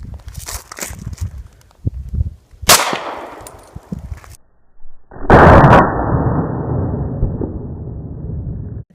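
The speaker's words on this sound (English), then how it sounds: "I will be firing the Hornady Critical Duty." A 9mm Hornady Critical Duty round fired into ballistic gelatin outdoors, a sharp loud bang partway through amid handling noises, followed later by a long rough rumbling noise.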